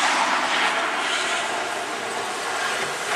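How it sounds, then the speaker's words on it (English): A snow plow truck rumbles through a Harlem street during the blizzard of 2010, a steady broad roar of engine and scraping with no talk over it. "there's a second snow truck."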